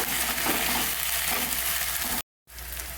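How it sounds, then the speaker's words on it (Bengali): Ginger, onion and garlic paste fries in hot oil in a pan with a dense, steady sizzle and occasional stirring, loud and close, cut by a brief dropout near the end. "কাঁচা গন্ধটা চলে যাওয়া পর্যন্ত এটাকে ভালো করে ভেজে নেব।"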